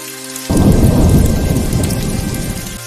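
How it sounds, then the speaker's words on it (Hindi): Heavy monsoon rain pours down over a village with a deep rumble of thunder, a loud, dense, continuous wash of noise with the thunder rolling in after a brief quieter start and no voices. "हिरनपुर नाम के गांव में इस बार बारिश अपना कहर ढा रही है।"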